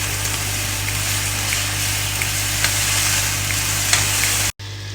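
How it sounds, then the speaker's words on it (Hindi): Onions frying in hot oil until golden brown for chicken biryani, a loud, steady close-up sizzle with faint crackles that cuts out sharply near the end before resuming. "अब इसको हमने जब तक फ्राई करना है जब तक इसका कलर गोल्डन ब्राउन नहीं हो जाता।"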